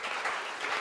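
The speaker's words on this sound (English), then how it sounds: "a round of applause for him" Brief burst of audience applause at a hackathon talk on blockchain, a soft, steady wash of clapping lasting under a second.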